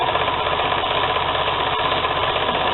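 Sewing machine stitching tote bag fabric, a steady, even mechanical whir with a fine rapid clatter running unbroken throughout, close and moderately loud.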